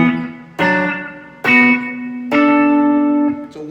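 An electric guitar plays a riff in E without a B-bender: three or four sustained, slightly distorted notes and double-stops, each picked loudly and left ringing, heard up close with no talking.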